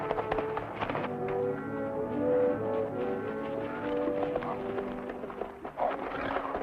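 Horse hooves clip-clop steadily in a dusty Western setting, a continuous rhythmic clatter of several hoofbeats mixed with tonal background music, at moderate distance.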